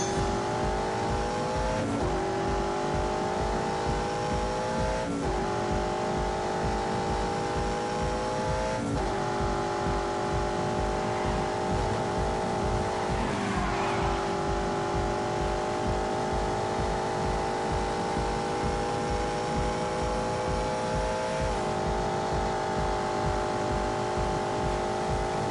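A V8 car engine in The Grand Tour Game on PS4 roars steadily as it accelerates, climbing through the revs with a few clear gear changes marked by brief dips, loud and close with no talk over it.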